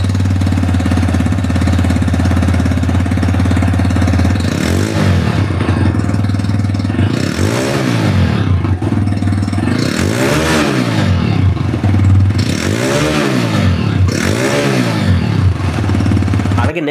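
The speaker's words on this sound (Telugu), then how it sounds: "ఎగ్జాస్ట్ సౌండ్ ఒకసారి మీకు వినిపిస్తాను చూడండి" A TVS Raider 125 motorcycle idles with a steady, loud exhaust rumble close up, and the engine is blipped four or five times in rising and falling revs.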